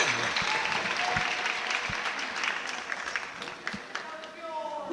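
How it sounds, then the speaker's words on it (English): Crowd applause fills a gym during a trophy presentation at the Berea Basketball Invitational championship game, Buckhorn versus Sheldon Clark. A steady, dense wash of clapping runs throughout with a few sharper individual claps, easing slightly near the end, with voices mixed in. "Can we give her a round of applause, guys?"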